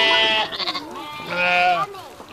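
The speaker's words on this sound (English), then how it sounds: "Like Dr. Doolittle, talk to the sheep" Sheep on a farm let out wavering, nasal bleats, close and loud, with a person's voice mixed in among the calls.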